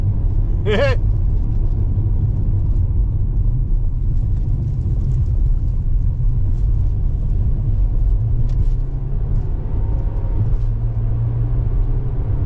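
A Ford Escape ST-Line with a 2-liter EcoBoost engine driving, heard from inside as a steady loud low rumble of engine and road noise, continuous throughout with a brief higher sweep near the start.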